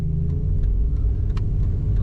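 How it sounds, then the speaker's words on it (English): A black 1998 Jeep Cherokee, modified for off-roading with knobby tires, being driven, giving a steady, close, low engine and road rumble that holds without a break. "Today we're driving a 1998 Jeep Cherokee"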